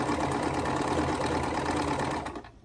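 A sewing machine runs steadily while stitching a quilt seam, a loud continuous motor whir that stops abruptly near the end.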